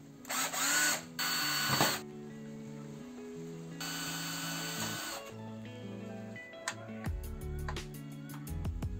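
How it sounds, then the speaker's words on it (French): A power drill bores holes in a computer motherboard for standoffs in a PC build, giving a few short close whining bursts amid clicks and handling taps, with no speech. "je vais tout simplement faire des trous dans la carte mère pour mettre des entretoises"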